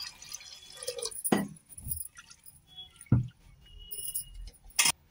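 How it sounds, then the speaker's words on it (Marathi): Water drips and splashes into soaked lentils in a container in a few short bursts, with faint clinks and small sloshing sounds between them. "आता याच्यात पाणी टाकूया"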